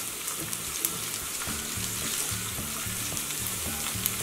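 Grated ginger and garlic sizzling in hot oil for a crispy cabbage Manchurian: a continuous close crackling fry with faint tonal kitchen noise beneath and occasional sharp pops, with no talking.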